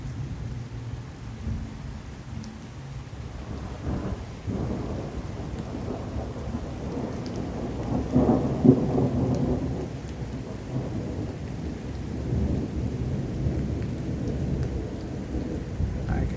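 Steady rain falls in Fort Worth, Texas, with low rumbles of thunder rolling through, the loudest rumble swelling near the middle; no voices.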